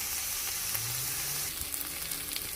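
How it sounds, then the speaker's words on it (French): Minced meat browning in a frying pan, a steady close hiss of sizzling fat that runs unbroken from start to finish with a few faint low hums underneath. "on commence par griller, pour bien faire cuire la viande hachée"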